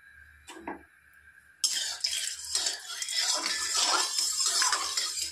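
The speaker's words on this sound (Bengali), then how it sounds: "এদিকে গ্যাসটা জ্বালিয়ে কড়াই বসিয়ে দিয়েছি।" A wok is set down on a lit gas stove in a home kitchen while fish is being prepared. A quiet start with a faint tone gives way to a sudden, steady broadband roar with light metallic clatter that continues to the end, with no talk.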